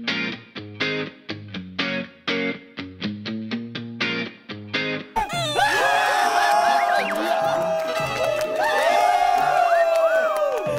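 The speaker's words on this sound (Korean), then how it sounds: "박수! 와!" At a K-pop group's variety segment, a few seconds of bouncy, stop-start music cut abruptly into a loud wash of crowd cheering and whooping, processed with effects and sustained to the end.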